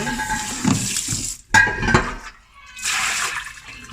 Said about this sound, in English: I'm just gonna give this a really good rinse because I know I washed these last time I brewed.